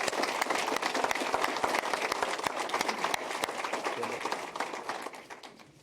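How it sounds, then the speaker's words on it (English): An audience at the TigerImpact launch press conference gives a sustained round of applause, a thick, even crackle of many hands clapping that fades slightly toward the end. "Folks, please can we give Bella another round of applause for being so brave in what she's done."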